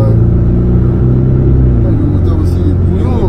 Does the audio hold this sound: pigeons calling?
no